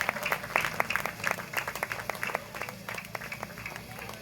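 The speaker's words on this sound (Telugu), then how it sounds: "అందరూ బిగ్ క్లాప్స్" An audience claps steadily at a felicitation ceremony honouring a master on stage, a dense run of hand claps held at moderate loudness for several seconds with no talking over it.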